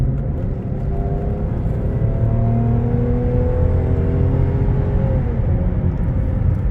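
An MG ZT 180 car engine drones and rises in pitch as it accelerates, with gear-like steps in the tone over a steady low road rumble, heard from inside.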